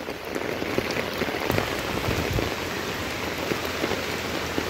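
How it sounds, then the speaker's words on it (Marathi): Hard monsoon rain falls in Mumbai, a close, steady patter with scattered louder drops hitting a surface and no one speaking. "विशेष हार्ड आहे पावसाचा आता"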